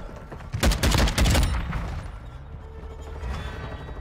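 Gunfire from a one-shot weapon in the video game Modern Warfare 2: a loud burst of two or three close shots early on, then fading into quieter game ambience.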